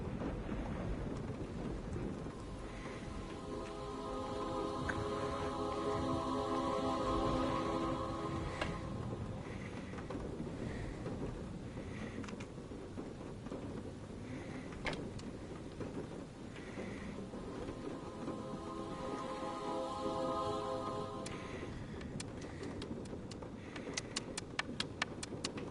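A stormy night at a lighthouse in the PSVR game A Fisherman's Tale brings steady rain and low rolling thunder, with soft musical tones drifting over it for nearly half a minute and no one speaking.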